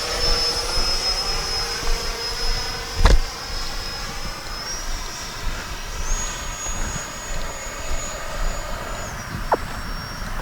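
An FMS Rafale 64mm electric ducted-fan RC jet flies past with a steady high-pitched whine that rises and shifts in tone as it passes, accompanied by continuous roaring air noise and a brief bump partway through.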